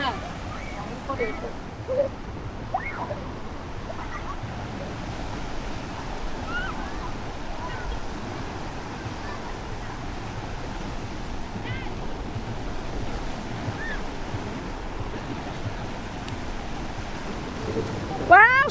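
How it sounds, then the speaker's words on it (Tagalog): Strong ocean waves breaking on a black sand beach, a steady wash of surf noise throughout, moderately loud and continuous, with faint voices in the background and a brief louder splash near the end. "Parang medyo malakas yung alon."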